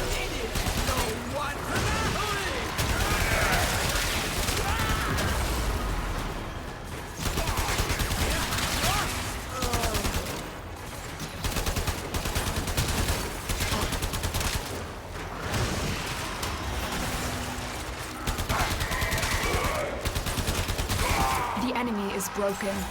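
Rapid bursts of gunfire from shooting enemies in the sci-fi video game Warframe, repeating steadily through the whole stretch, loud and dense, mixed with game effects and a voice talking over it.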